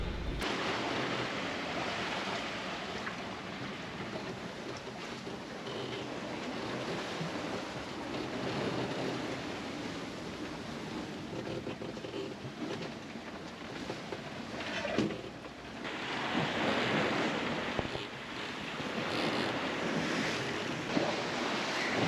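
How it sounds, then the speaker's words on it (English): Waves and gusting wind batter a sailboat at sea during a small squall, the surf washing steadily with wind noise rumbling across the microphone, growing rougher and louder in bursts toward the end. "There was a small squall coming over."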